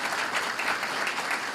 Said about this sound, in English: I must give a big round of applause to the entire panel